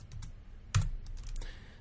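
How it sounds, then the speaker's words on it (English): Typing on a computer keyboard in a quiet room, a few close, light clicks and taps in a short irregular burst. "So if I type CSV stat demo3.csv"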